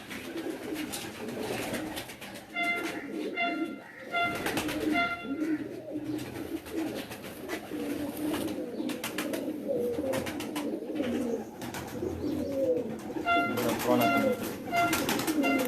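Pigeons on a rooftop in Mochh, Mianwali coo in repeated soft throaty calls, close and steady over a busy background of shuffling and talk.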